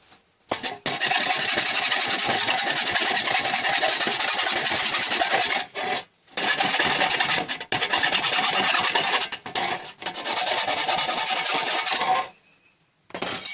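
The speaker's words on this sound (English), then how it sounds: "try to break off as many of these burrs, file them down as best you can" Metal file rasping burrs off the cut edge of a #10 tin can for a hobo stove, loud close continuous scraping strokes in long runs broken by a few brief pauses.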